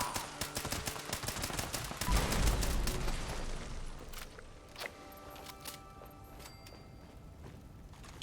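Gunfire in Fallout 76 as Scorched enemies are shot down, a fast run of sharp repeated shots in the first half, then sparser isolated reports and clicks over quieter game ambience.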